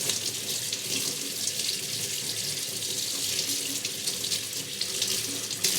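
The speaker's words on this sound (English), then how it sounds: "I just rinse it." Tap water runs steadily into a sink as a makeup brush is rinsed, a continuous close splashing hiss with no talking.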